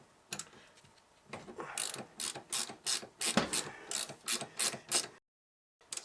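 A ratchet loosens the front wheel bearing nut on a 1989–94 Lotus Elan M100, giving a run of sharp, evenly spaced clicking bursts close by, each pull a quick rattling stroke, ending in silence.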